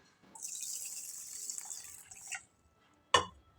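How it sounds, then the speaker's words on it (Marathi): Water splashes and runs steadily for about two seconds as masoor lentils are rinsed by hand, then a short sharp knock follows after a pause. "ह्या पाण्यानं मसूर डाळ ही स्वच्छ धुवून घेऊ"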